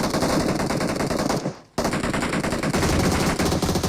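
Rapid automatic gunfire in the video game PUBG rattles almost continuously, loud and close, with a brief drop-out partway before the bursts resume.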